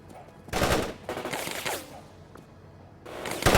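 Bursts of automatic gunfire from an infantry ambush in the strategy game World in Conflict, loud and close, arriving in several separated volleys with brief pauses between them.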